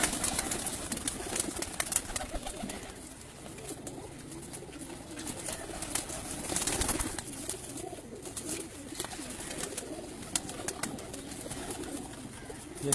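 Racing pigeons coo on a rooftop in Punjab, a dense, continuous murmur of close cooing with occasional wing flaps and no talk.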